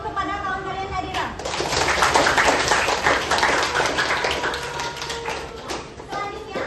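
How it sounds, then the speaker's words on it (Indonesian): A classroom of students applauds a classmate, a burst of dense clapping that swells and then fades, with a teacher's voice heard before and after it. "Kita beri aplaus dulu kepada kawan kalian Nadira."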